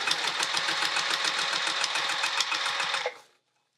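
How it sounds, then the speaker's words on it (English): A sewing machine stitches binding onto a quilted witch hat, giving a close, steady rhythmic whirr of needle strokes for about three seconds before stopping abruptly into silence. "I'm sewing right along that"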